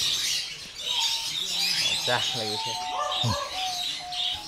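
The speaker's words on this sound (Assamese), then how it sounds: "এইকেইটা চাওক কেনেকুৱা চৰাই আছে" Pet birds in a large aviary collection, including African greys, give clear whistled chirps and bell-like calls, up close over constant background chatter, while people talk.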